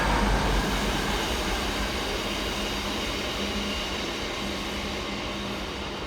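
A Class 350 electric passenger train runs through Nuneaton station, a loud continuous rumble of wheels and motors that fades slightly over several seconds, with no voices.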